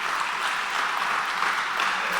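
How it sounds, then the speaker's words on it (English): An audience at a chamber of commerce membership meeting claps steadily, a dense wash of applause that is fairly loud and continuous, with no talk over it. "give them a round of applause there"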